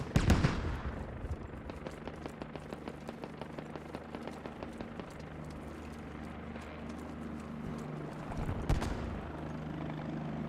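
A helicopter in a video game gives a steady, rhythmic thudding of rotor beats that carries on throughout, with a sharp loud impact at the start and another burst near the end.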